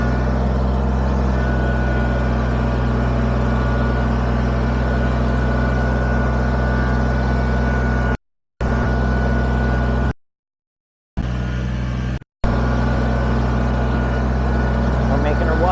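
A Kubota BX23S tractor engine runs steadily while backblading stone for a storage trailer pad, a constant low drone with a few brief dropouts, and a voice talks over it.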